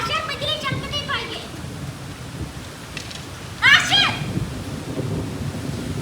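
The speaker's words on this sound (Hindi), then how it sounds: "अच्छा आंधी आ रही है, आंधी" A rain-laden windstorm blusters outdoors, with steady rushing noise and a brief louder gust partway through, while children's voices and a woman's speech come and go over it.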